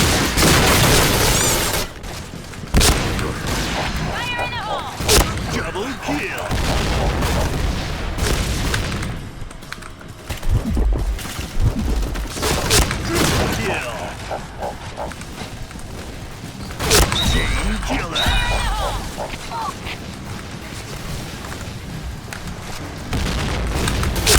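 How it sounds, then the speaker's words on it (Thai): Grenade explosions in the Point Blank shooter game: repeated loud, booming blasts mixed with bursts of gunfire, close and dense throughout, with a brief drop in the middle. "มีระเบิดใครปามาฮะ"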